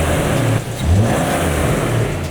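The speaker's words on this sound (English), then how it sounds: "Give it some revs." A modified Nissan Skyline engine revs hard after a coolant hose repair, a loud, close, steady roar with a brief dip near half a second before climbing again.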